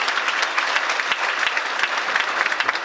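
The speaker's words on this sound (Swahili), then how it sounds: "Mpe makofi mazuri." Enthusiastic applause from a church congregation for a young man, dense steady clapping filling the room up close for a few seconds with no talking over it.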